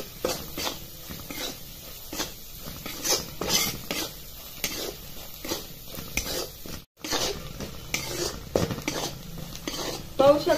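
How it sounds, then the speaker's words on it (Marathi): Ground turmeric, coriander, chili powder and garam masala are stir-fried in a pan for a green pea curry, with repeated scraping spoon strokes over a constant sizzle. A voice talks at times. "आणि हे पूर्ण असं परतून घ्यायचे"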